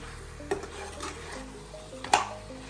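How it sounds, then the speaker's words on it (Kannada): A big spoon stirs cashew chicken gravy in a pot with soft scraping and a bubbling sizzle, broken by two sharp metallic clinks against the pan. "ಚೆನ್ನಾಗಿ ಒಂದು ದೊಡ್ಡ ಸ್ಪೂನ್ ತಗೊಂಡು ತಿರುಗಿಸ್ತಾ ಇದ್ದೀನಿ"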